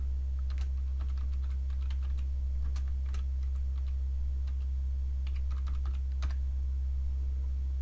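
Typing on a computer keyboard, a steady stream of light key clicks in irregular bursts over a constant low electrical hum, close and fairly quiet.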